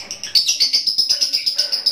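A lovebird being trained toward competition form gives a rapid series of sharp, high chirps in a steady pulsing rhythm, loud and close, with no talking.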